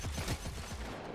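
Rapid bursts of gunfire in Destiny 2 crackle close and loud against a dense, noisy game background.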